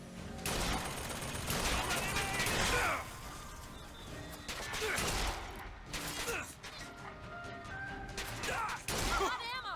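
Repeated heavy hand cannon gunfire bursts in Bioshock Infinite, loud and close, with crashing impacts between volleys and faint voices underneath.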